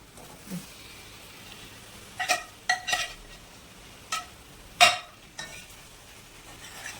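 Prawns are added to sautéed masala in a pan and stirred, with quiet background frying and several short clattering scrapes of a spoon against the pan, irregularly spaced.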